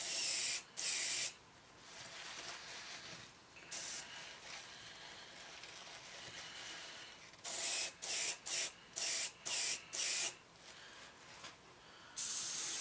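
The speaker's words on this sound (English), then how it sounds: "So simply spray it across the model" Short bursts of aerosol spray paint hissing onto a 1/72 scale Revell Halifax Mk.III model kit, a few at the start and then a quick series of sharp sprays near the end, close and fairly loud.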